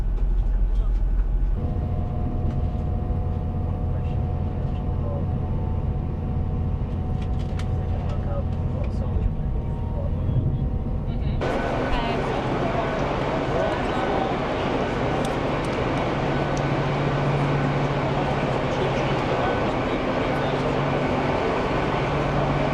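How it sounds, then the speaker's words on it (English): Interior of a moving passenger train heading to Leeds, with a steady low rumble and hum throughout that grows broader and louder partway through as the train picks up speed. "I've made it on the train. Let's head back to Leeds."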